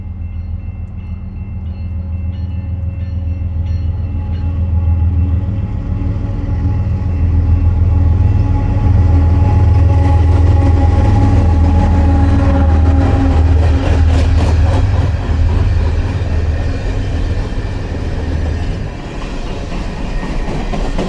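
A heavy freight train rolls along mountain railway tracks in the Rockies, a loud, continuous rumble with rhythmic clickety-clack of wheels over rail joints building through the middle and easing toward the end.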